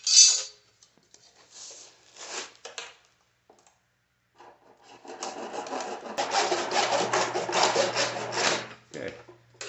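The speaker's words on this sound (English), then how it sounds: "So I'm gonna cut 1 inch off of here and then put a slit in it" A short length of radon system pipe is cut by hand, with a few scattered rasping strokes at first and then a sustained stretch of steady sawing or scraping, close and fairly loud.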